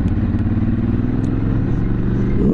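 A Cagiva Elefant 750 motorcycle rides over a bumpy road, its engine giving a loud, steady low rumble with rattling and clatter from the jolts, close and continuous throughout.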